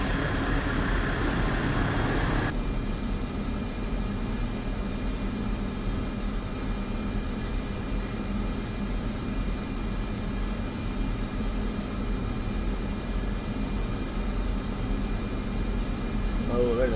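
A steady aircraft engine drone while taxiing in Microsoft Flight Simulator 2024 in Arizona, a continuous low whine and hum that is louder at first, then settles into an even tone.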